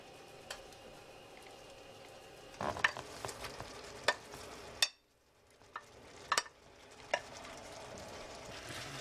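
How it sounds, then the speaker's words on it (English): Meatballs in a marmalade sauce gently stirred in a pot, soft spoon scrapes and occasional sharp clinks against the rim over a quiet bubbling sizzle, with a brief silence midway. "Gently stir them so they can be coated in that sauce."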